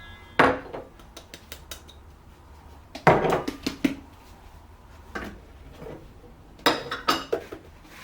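Dry baking ingredients (salt, baking soda, baking powder and flour) dumped into a mixing bowl, giving a few separate clattering, clinking bursts of utensil and bowl contact with quiet pauses between, close by and with no talk.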